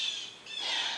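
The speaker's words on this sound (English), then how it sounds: "Birds are having a fit." Harsh, high-pitched bird squawks, two bursts in quick succession, sharp and fairly close with no other sounds.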